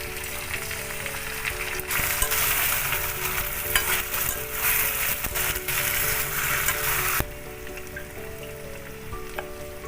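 Chicken fries in a pan with spices and white sesame paste, sizzling steadily as it is stirred up close, with faint tonal background sound and no talking.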